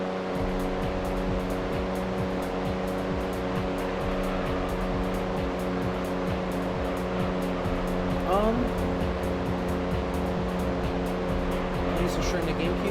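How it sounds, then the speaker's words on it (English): A car engine in the racing game Gran Turismo 3, a steady buzzing drone likened to a lawnmower, holding a fairly constant pitch with a brief rise near the end under faint background talk. "Why am I associating the sound of this car with a lawnmower?"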